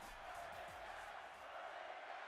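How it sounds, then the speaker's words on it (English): A wrestling arena crowd at WrestleMania 38 fills the space with a steady, dense wash of booing and crowd noise, continuous and loud with no pauses. "The crowd is booing."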